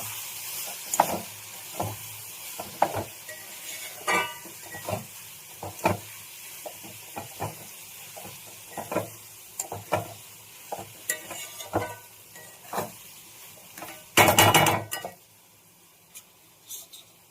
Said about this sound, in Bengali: তো আমি দিয়ে দেবো সব মশলাগুলো একসাথে, ভালো করে নেড়ে নেবো।